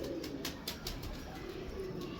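A round-winged pigeon coos softly and repeatedly at close range, low rhythmic calls over quiet background noise.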